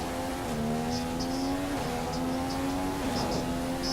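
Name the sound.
Sauber F1 car driving in video game F1 2016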